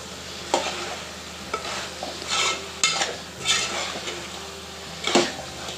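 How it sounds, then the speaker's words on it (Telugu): A spoon stirring cauliflower curry as it cooks in a pan, several scraping strokes at irregular intervals over a low simmering sizzle. "ఇలా మధ్య మధ్యలో కలుపుకుంటూ ఉడకనివ్వాలి"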